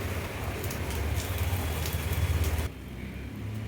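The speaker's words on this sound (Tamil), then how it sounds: "இதை மாவில் போட்டுட்டு அதை நல்லா எடுத்து ஃபுல்லாக கோட் ஆகிற மாதிரி கோட் பண்ணி எண்ணெயில் விட்டுடணும்" Potato bonda dropped into hot oil, crackling and sizzling steadily and fairly faint, then suddenly quieter near the end.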